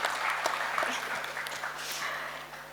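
Audience at a press conference for The Lord of the Rings: The Rings of Power gives a round of applause, dense moderate clapping lasting throughout with a steady hum beneath.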